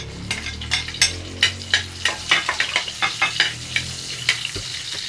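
Garlic and onion sautéing in a pan, with a steady sizzle broken by a dozen or so sharp scrapes and clinks of a utensil stirring against the metal, close and moderately loud.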